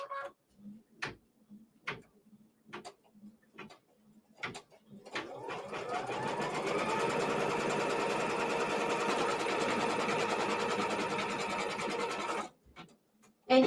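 A computerized sewing machine stitches out a quilt block for a 54-40 or Fight variation. It starts with a few separate clicks and taps, then settles into a steady, rapid mechanical hum for several seconds before stopping.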